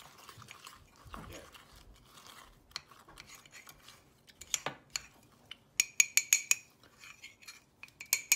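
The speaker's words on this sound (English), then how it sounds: "now you're gonna take the fork. You're just gonna mix everything up." Light clinking and scraping of a fork against a mug while mixing Oreo mug cake batter, with a quick run of rapid taps near the end.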